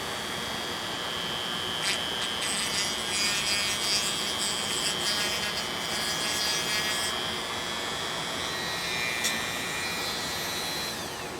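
A Dremel rotary tool on its lowest setting working balsa wood for a model airplane tail, giving a steady high whine with a continuous grinding, rasping hiss close by and no talk.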